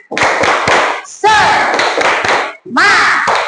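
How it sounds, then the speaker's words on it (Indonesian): Schoolchildren in an Indonesian classroom do a rhythmic group clap-and-chant routine, with sharp bursts of hand claps in quick patterns and loud shouted voices joining in unison between the beats. "Coba tepuk semangat."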